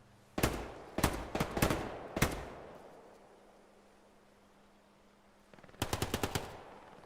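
Machine gun fire in an online multiplayer shooter game: two clusters of rapid, sharp bursts, the first a broken run of short volleys, then a quiet gap and a final fast string of shots.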